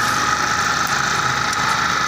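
A Suzuki Burgman motorcycle engine idles at close range, holding a steady, even drone with a faint mechanical rattle and no talking.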